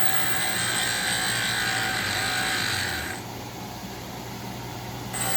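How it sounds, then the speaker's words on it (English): A small dental lab lathe trims a plaster cast and bogs down, a close electric whine that drops in pitch and loudness partway through before picking up again. "That's a wimpy lathe. Something like that. I'd like them a little deeper, but that lathe is stalling out."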